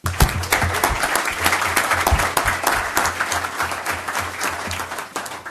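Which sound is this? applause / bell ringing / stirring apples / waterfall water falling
applause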